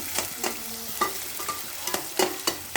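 Chopped onion and green chillies fry for a fish curry, with a steady close sizzle in the pan and a spoon or spatula scraping and stirring in regular strokes.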